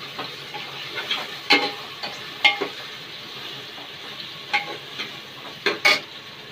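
Potatoes being stirred in a frying pan for a Konkani-style black pea curry, giving a steady low sizzle broken by several sharp scraping clacks of the spoon against the pan, close and clear, with no talking.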